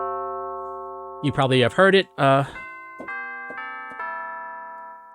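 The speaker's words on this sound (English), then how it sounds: "I'm going to add what is called tubular bells." Tubular bells from the Soundiron Rainsong plugin ring out with a long sustained metallic tone, then someone talks briefly before several more clear, resonant bell strikes sound one after another and fade.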